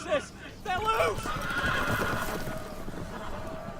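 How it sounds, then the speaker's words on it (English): Loose horses neigh and whinny in a Game of Thrones Telltale video game scene. Several loud whinnies come early, then a continuous clatter of hooves and commotion follows. "The horses! They're loose!"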